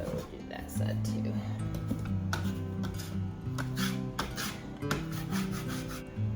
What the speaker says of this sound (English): I'm just going to start kind of putting it in the hole and scraping it.